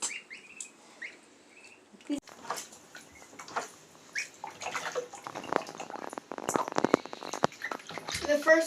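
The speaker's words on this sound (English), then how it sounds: "whenever I dump that bucket in with water full in" Water from a full bucket splashes and pours out on a homestead farm, arriving in bursts after a quiet start, with chirping animals and a person talking nearby.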